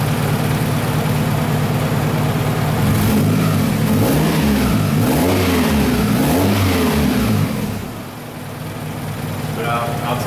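A Toyota Camry engine with an exhaust leak runs close up, a loud idle that swells through several rhythmic revs before dropping off, with a voice talking near the end.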